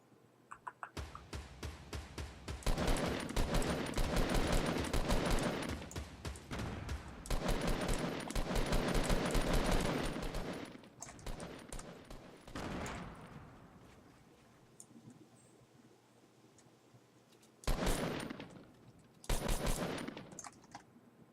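Rapid bursts of automatic gunfire in a video game, several long sustained volleys broken by short gaps, loud and close, ending in two brief sharp bursts after a quieter stretch.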